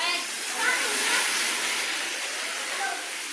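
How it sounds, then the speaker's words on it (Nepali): Heavy rain pours down outdoors as a loud, steady broadband hiss with no pauses, filling the whole stretch evenly. "हेर्नुस् दर्शक वृन्दहरु हेर्नुस् कत्रो ठुलो पानी परिरहेछ यहाँ"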